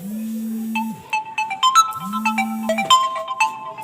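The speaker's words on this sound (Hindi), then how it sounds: "एक सेकंड फोन आ रहा है।" A mobile phone ringtone from an incoming call plays loud and close, with two long sustained tones followed by a quick rising and falling electronic melody of bright beeps.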